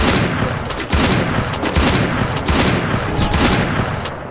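Gunfire in the Free Fire video game comes as rapid, dense bursts of shots and booms that roll on continuously at high volume, with no speech.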